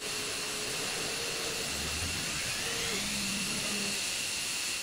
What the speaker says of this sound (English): Both engines fully up and running.